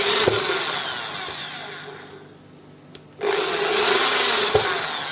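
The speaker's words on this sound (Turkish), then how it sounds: "Bu şekilde arkadaşlar buraya sıralı olarak deliklerimi açacağım." A power drill bores a row of holes into a pipe being made into a Hamburg-style filter pipe, a steady close whine that fades out briefly and then starts up loud again.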